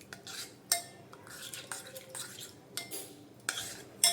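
A spoon stirs oil and kasuri methi through a chicken drumstick marinade in a bowl, with repeated scraping swirls and several sharp clinks against the dish, close and clear with no voices.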